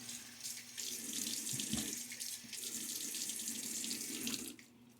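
Water runs steadily from a tap into a sink, a continuous hissing splash close by, fading near the end, during a wet shave.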